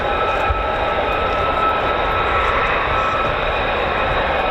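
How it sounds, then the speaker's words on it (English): A US Air Force F-35 fighter with its Pratt & Whitney F135 engine at RAF Lakenheath, roaring loud and steady in a continuous broadband rumble with no break across the whole stretch. "I'll let you enjoy the Pratt & Whitney F-135 PW100 tone"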